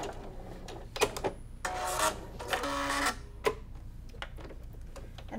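Home sewing machine stitching across an intersection on a quilt block, a steady mechanical whirring run lasting about a second and a half, then a second shorter burst after a pause, with scattered light clicks and handling noises around it.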